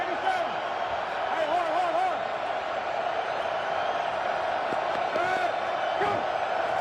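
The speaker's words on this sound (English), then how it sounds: "now crowd noise becomes an issue here in the Dome" Steady roar of a large football crowd of nearly 30,000 inside an indoor dome stadium during an XFL game, a constant wash of noise with occasional whoops, under a play-by-play commentator.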